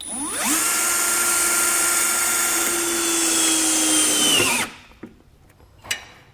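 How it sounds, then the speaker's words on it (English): A power driver fitted with a 5/16 nut driver bit whines steadily at high speed while starting a hole in the bottom of a 2017 towed vehicle, loud and close, then stops abruptly, followed by a couple of small clicks. "Use a 5/16 nut driver to get my hole started."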